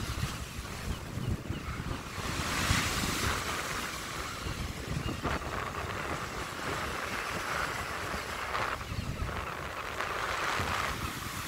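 Sea waves crash and roar along Blackpool promenade under strong, gusting wind that buffets the microphone, a continuous loud wash of noise with no talk.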